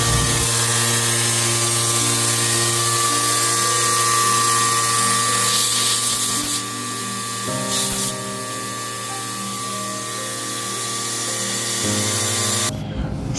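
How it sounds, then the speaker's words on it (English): An air pump runs inside a large deserted paper mill, a steady close mechanical hum and hiss with a brief shift near the end, no talking. "And here comes the air pump."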